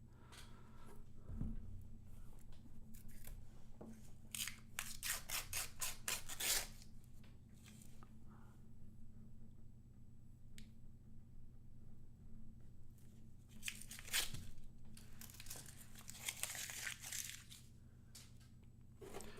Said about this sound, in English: as I take these wrappers off, I crumple them up